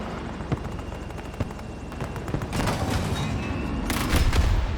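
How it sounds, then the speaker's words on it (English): Battlefield 2042 stealth helicopter in gameplay: a string of sharp thuds from cannon and bomb fire over a steady rotor-like drone, building into heavier sustained blasts and rumble toward the end, with no talk. "Good opening bomb, open up to fire the TOW missile"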